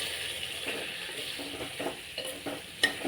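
Brinjal coated in masala is stirred in a pan over a low flame, giving a quiet frying sizzle with a few soft scrapes of the spoon, faint and close.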